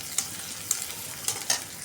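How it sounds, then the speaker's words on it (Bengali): Onions fry in a pan with fried fish, giving a soft continuous sizzle as a utensil stirs and scrapes them in four distinct strokes. "মাছগুলো ভাজা নিয়েছি, এখন পেঁয়াজ পেঁয়াজ দিয়ে দিচ্ছি"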